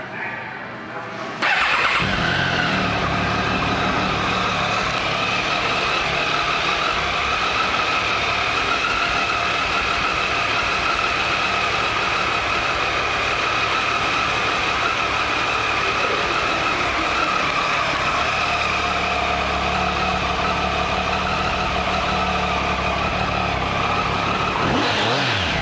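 A 2014 Triumph Tiger 800 XC engine cranks and fires up close by after a brief pause, then settles into a steady idle with occasional revs, running loud and continuous for over twenty seconds.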